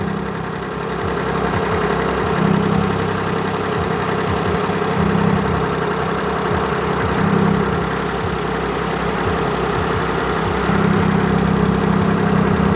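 A Smart ForTwo engine idles steadily while a hand is held over the exhaust, a low continuous hum with periodic pulses and small shifts in tone, loud and close with no talk.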